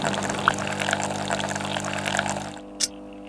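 Fruit juice poured in a steady, close stream for a couple of seconds, then the flow stops, followed by a single light clink.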